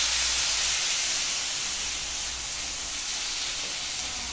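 Water poured into crumbled chhana in a hot pan gives a steady, loud hissing steam burst that stays broad and continuous without a break, with no voices.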